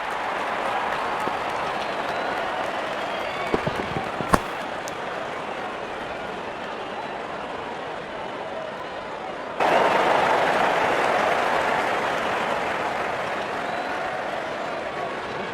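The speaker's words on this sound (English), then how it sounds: "crowd is enjoying every bit of this action." Steady roar of a stadium crowd in the Real Cricket 2026 video game during an India match, loud and continuous, swelling louder partway through, with commentary-like voices mixed in.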